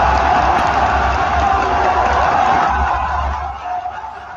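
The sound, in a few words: crowd cheering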